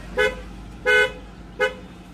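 A pick-up truck horn gives three short honks, the middle one longest, loud and close with no voices.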